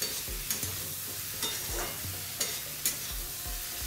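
Usal being sautéed in a pan, with loud close spoon scrapes and stirs every half second or so over a steady background sizzle.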